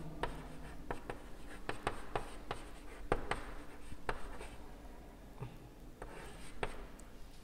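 Chalk writing on a board in a Bengali primary school class, with a steady run of scratchy, tapping strokes close by and no voices.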